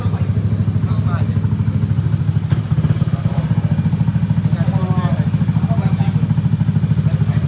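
A Yamaha Aerox motor scooter runs with a steady, loud engine drone and a fast regular pulse, close by, while voices talk over it.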